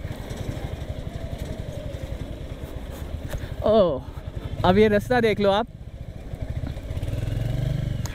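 Royal Enfield Hunter 350 motorcycle engine while riding, a steady low putter running throughout the clip with brief speech passing over it in the middle.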